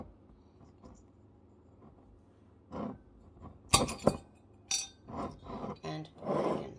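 Glass bottle of 360 Double Chocolate being opened in a kitchen for homemade vanilla extract: scattered close clinks, scrapes and a sharp twisting rasp, louder toward the end, with no talking.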